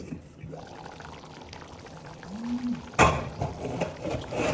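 Water poured into a pot of beans and corn for a Nigerian adalu stew, a continuous splashing pour building toward the end, close and moderately loud.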